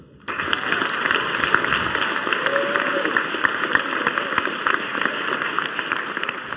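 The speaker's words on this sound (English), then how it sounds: "deserves one really big last round of applause" Dense, sustained applause from school pupils inside a Scottish high school, starting abruptly and holding as a loud, even roar of many hands clapping together.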